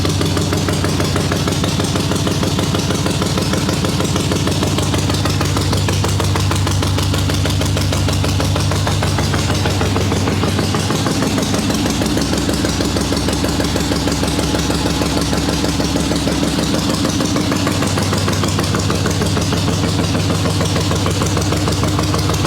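Swap meet chopper motorcycle engine with a Mikuni VM38 carburetor idles steadily with the choke on, a loud, continuous low throb that shifts slightly in pitch midway, close and alone.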